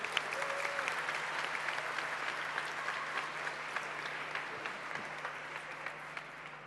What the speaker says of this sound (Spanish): También quiero pedirles un fuerte aplauso al diputado Francisco Undurraga, que hoy nos está acompañando aquí también.